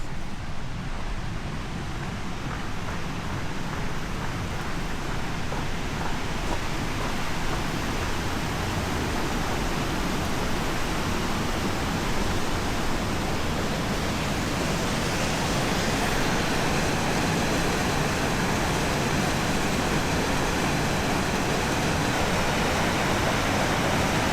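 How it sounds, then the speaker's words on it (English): Chips Creek on the Pacific Crest Trail rushes loudly and continuously, a dense roar of water that swells slightly louder partway through and never breaks. "This is Chips Creek."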